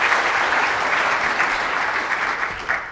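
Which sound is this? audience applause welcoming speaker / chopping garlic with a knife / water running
audience applause welcoming speaker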